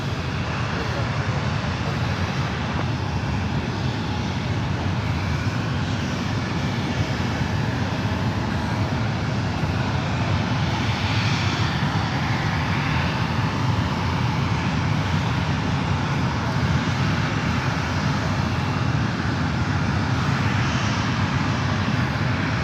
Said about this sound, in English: It's a 34-year-old 767 300ER.